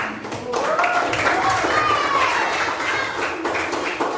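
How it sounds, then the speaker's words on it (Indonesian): Students clapping their hands together in a classroom, scattered sharp claps running throughout while voices keep talking over them. "Jadi kita semua tepuk tangan untuk apresiasi diri kalian."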